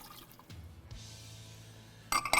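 Red wine and soy sauce poured into a CanCooker pot over spare ribs cut into 3-inch pieces: a short liquid pour and drip at moderate level, ending in a brief louder splash.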